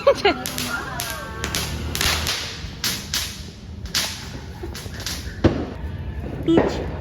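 New Year's firecrackers go off in an irregular string of sharp, snapping pops, some close and loud, while people shout nearby.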